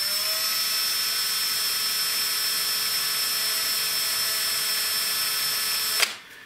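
An electric drill boring freehand into soft alloy, a steady high motor whine that runs for about six seconds, then stops abruptly.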